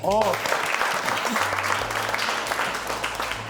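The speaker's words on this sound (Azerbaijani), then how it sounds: "Böyükçölü xahiş elə bir alqışlayaq." A studio audience at an Azerbaijani comedy talk show breaks into loud, dense, sustained clapping that fills the room, after a brief voice at the very start.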